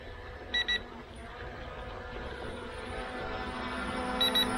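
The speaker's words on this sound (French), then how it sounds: "là je l'essaie alors que j'ai la batterie, je n'ai pas chargé. C'est pour ça que ça bip." A small brushless toy drone with an uncharged battery gives short, high double beeps twice, near the start and again near the end, over a soft steady background hum.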